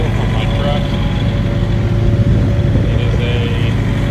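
A 2021 Peterbilt 389 truck idles with a steady, close low rumble and even engine drone throughout, with faint voice-like sounds over the top.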